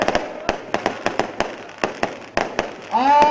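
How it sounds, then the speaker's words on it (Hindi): Fireworks bang repeatedly at a large night-time political rally in Bagh, Azad Kashmir, sharp bursts coming in an irregular volley against a crowd murmur, with a whistling rocket rising near the end. "इस वक्त आतिशबाजी है"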